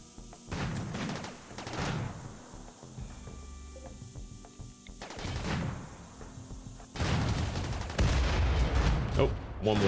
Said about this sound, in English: Now, a lot of these turrets are blowing up because of the just collateral damage